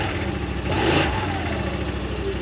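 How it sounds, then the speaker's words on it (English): A 2024 Yamaha Wolverine X2 1000 side-by-side engine fitted with a blockoff plate runs close by, a steady rumbling idle with a brief rise in revs partway through, no voices. "I just start up letting it run."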